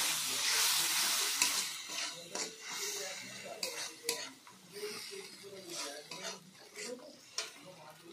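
Spices with turmeric, chili powder and a little water are stirred in a pan, with a soft sizzle and irregular scraping and clinks of a spoon against metal, close and fairly quiet.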